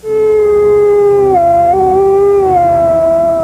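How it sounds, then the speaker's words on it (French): Lone wolves howl in long, sustained, wavering cries that slide up and down in pitch, loud and close with no break for over three seconds. "Les hurlements des loups solitaires ont longtemps glacé d'effroi les voyageurs de la nuit"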